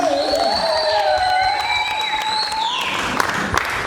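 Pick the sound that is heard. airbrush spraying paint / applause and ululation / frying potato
applause and ululation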